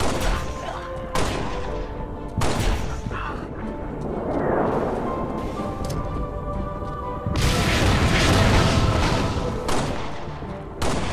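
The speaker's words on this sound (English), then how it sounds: "Use these grenades to clear enemy barricades." Grenades blast through enemy barricades in the video game Halo Spartan Strike, several sharp booms and crashes in separate bursts over game music and a rumbling background, with a heavy explosion late on.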